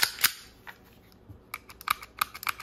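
Trigger clicks from a Taurus G2C compact pistol being dry-fired, sharp close mechanical snaps heard several times in quick irregular succession, loud and clear against a quiet background.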